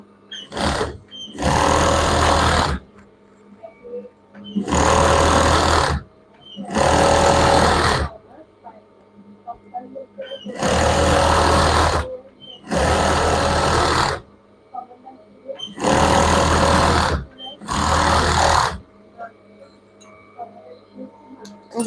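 Electric sewing machine stitching seams on children's pajama pants, running in seven loud bursts of a few seconds each with short pauses between them, close up, with no talking over the stitching.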